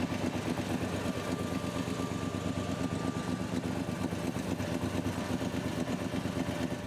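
A Morgan 3-Wheeler's S&S 1983cc 56-degree air-cooled V-twin runs at a steady idle, giving a continuous even rumble with no change in pace, heard alone and fairly close.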